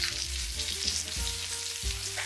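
Viennese cutlet frying in hot oil gives a close, steady crackling sizzle with small bubbling pops and occasional soft knocks from the pan.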